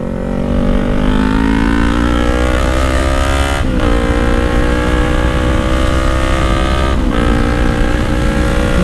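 A Kawasaki Z1000 motorcycle runs loud and steady as it rides, its engine droning on without a break, with shifting pitch and a couple of brief dips in tone.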